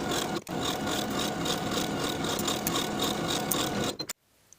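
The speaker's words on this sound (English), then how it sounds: "Sew the top edges together from center back to center back with a 3/8 inch seam allowance." A sewing machine stitches the waistband seam of a pleated skirt in a fast, even whir of rapid needle strokes, then cuts off abruptly into near silence.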